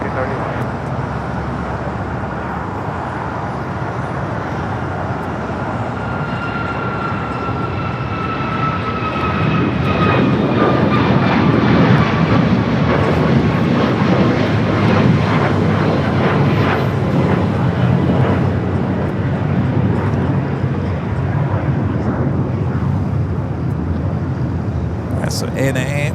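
A United Airlines jet takes off from runway 25 right at LAX. The engine roar is moderate at first, then swells into a loud, sustained thrust rumble partway through, with voices talking over it.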